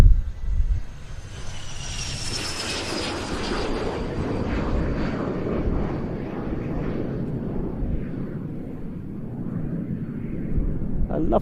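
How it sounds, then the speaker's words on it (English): A C-21 business jet departs at the Royal International Air Tattoo, its engines loud and close at first with a sharp whine that sweeps downward, then a broad roar fading gradually as it climbs away. "A lovely departure from the C-21"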